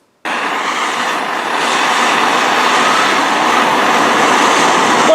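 A torch roars steadily and loudly, heating a nut threaded on a bolt so it can melt into a nylon Land Rover Defender gear knob, with a constant broadband hiss from start to finish.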